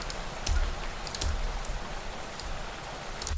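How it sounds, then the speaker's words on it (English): Real water droplets falling on a tarp, used as a rain loop: a steady soft hiss of fine patter with a few heavier irregular thumps from larger drops, close and fairly quiet, no voices. "those are actual water droplets falling on top of whatever that tarp was there"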